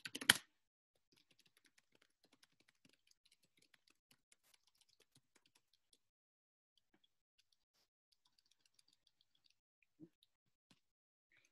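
Someone types on a computer keyboard while writing MATLAB code, producing faint, close, scattered key clicks in irregular runs over several seconds. A louder knock comes at the start, and a soft thump comes near the end.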